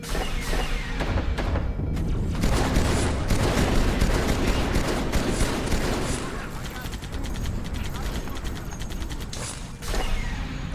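Rapid machine-gun bursts from a Falcon gunner seat in Halo 2 hammer on continuously and loudly, dense with overlapping shots and mechanical clatter throughout.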